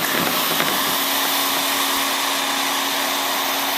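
A heat gun blows a steady, loud roaring hiss as it strips varnish from the wooden hull of a 1937 20-foot Lyman boat, continuous and close, with faint scraping under the drone.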